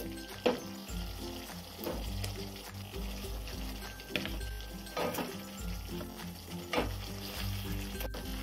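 Fried katla fish pieces go into a sizzling red spice paste in a pan for Bengali fish curry, giving a soft steady frying hiss with periodic stirring scrapes and clinks of the utensil against the pot.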